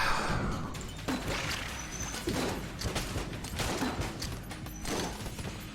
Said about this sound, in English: Using grenade launcher as a room clearer.